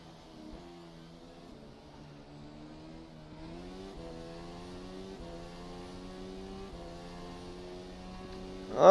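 A Formula 1 race car engine in a racing sim, Formula Sim Racing 2019 at Zandvoort, holding a steady high drone that climbs gradually in pitch over several seconds, with a sudden loud burst at the very end.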